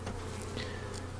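Calm Saskatraz honey bees buzz around an open hive with capped brood in mid-afternoon, a close, continuous hum with individual bees passing nearby.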